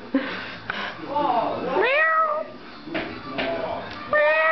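A cat perched on a person's shoulder meows several times up close, drawn-out rising and falling cries with short pauses between them.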